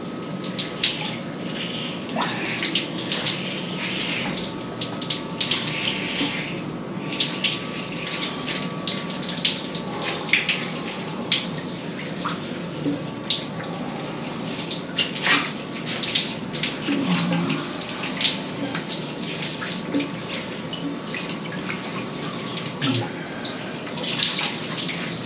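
A cold shower runs at 2 degrees Celsius, a continuous loud hiss of spraying water with small splashes, steady throughout.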